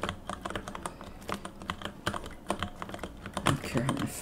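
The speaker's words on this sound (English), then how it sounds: "I don't care how my fucking keyboard sounds at this point." Rapid, uneven clacking of computer keyboard keys during a Binding of Isaac game, a fairly close, busy burst of keystrokes with no talking.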